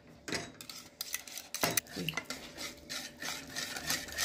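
Butter being stirred into a milk mixture for homemade soft cheese, a spoon scraping and clinking against the pot in steady repeated strokes, close and fairly loud, with no one talking.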